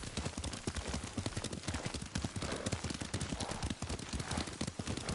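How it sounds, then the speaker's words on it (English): A horse's hooves clip-clop in the video game Ghost of Tsushima, with a quick, steady run of close, distinct strikes. They carry on without a break for the whole stretch, with no talking over them. "Lord Sakai taught me to ride a horse."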